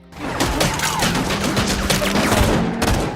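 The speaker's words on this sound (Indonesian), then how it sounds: "ada dua kelompok gangster yang sedang terlibat baku tembak" A gang shootout scene from the film Silent Night: dense, continuous volleys of gunfire with overlapping shots and crashes, loud and unbroken for the whole stretch.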